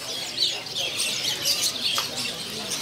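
Many canaries chirp and tweet in a dense, continuous chorus of high, quick calls at a crowded kiosk in the Pramuka bird market, close by and fairly loud.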